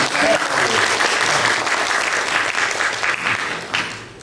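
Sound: congregation applause for the organist

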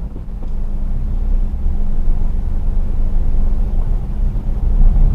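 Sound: Maruti Suzuki Celerio automatic car driving in first gear

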